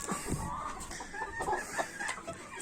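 A box of nineteen quail chicks peeps and chirps while being given chick feed, with many small birds calling softly and overlapping in quick, irregular cheeps, close but faint.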